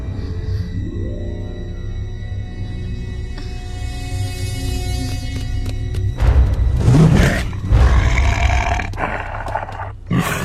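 A tiger in a cartoon lets out a loud roar that builds and swells amid a dense, busy soundtrack of music and effects, ending in thuds.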